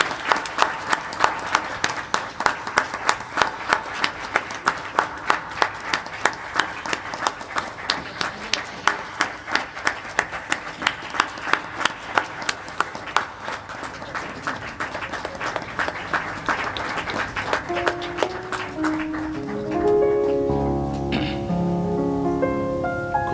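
A church congregation claps in a fast, steady rhythm for about twenty seconds before the clapping thins out and a musical tone rises underneath at the end.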